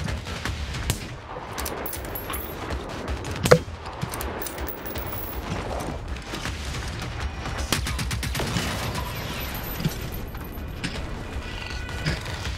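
Rapid gunfire from a player's weapon in the video game Generation Zero, a dense stream of repeated shots and bursts running throughout over a steady game background, fairly loud with no talk.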